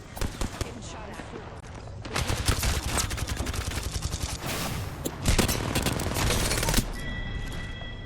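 Dense, sustained automatic gunfire in the Apex Legends video game on Nintendo Switch, loud bursts that roll almost without pause, closing with a shield-recharge tone.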